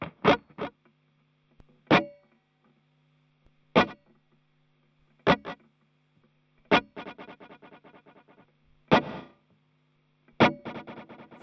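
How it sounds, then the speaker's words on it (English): Panning delay on an Ibanez SDR-1000+ effects unit: sharp percussive hits, each trailed by a rapid series of fading, repeating echoes, spaced a second or two apart over a low steady hum. "let's go to the next thing, which is panning delay."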